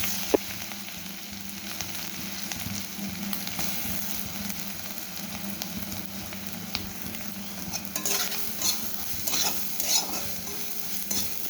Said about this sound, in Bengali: এবারে নারকেল কড়াটা দিয়ে দেবো